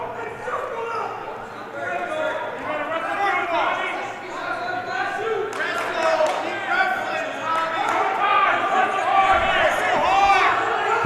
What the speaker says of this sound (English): His teammates cheering him on.